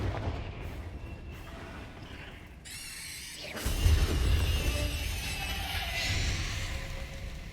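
Fiery blast of the Confringo spell in Hogwarts Legacy, a whooshing rising sweep followed by a deep booming explosion that rumbles on and fades slowly under a continuing roar.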